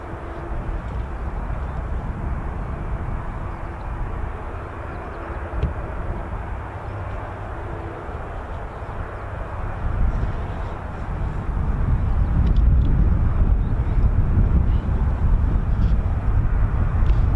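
Military jet noise at RAF Marham, where Spanish Air Force EF-18 Hornets are operating: a steady broadband engine roar, distant at first, then swelling louder toward the end, with outdoor wind and no talk.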